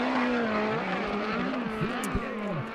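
A USAC sprint car screams around Arizona Speedway, its engine note rising and dipping repeatedly as the driver lifts and accelerates through the turns, loud and fairly close.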